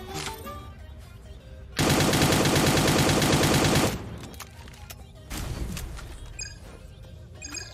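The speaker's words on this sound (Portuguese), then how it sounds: "Tá atirando ali" Automatic gunfire in the video game Cyber Hunter: a loud, dense two-second burst of rapid shots, with fainter scattered shots and game noise around it.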